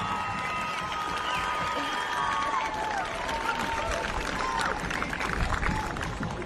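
A crowd at a women's football grand final, Heidelberg United v Box Hill United, claps and cheers steadily, with scattered voices and whoops rising through the sustained applause.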